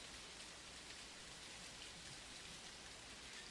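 Rainfall in an Unreal Engine video game, with quiet, even patter on surfaces that keeps up as a constant hiss throughout.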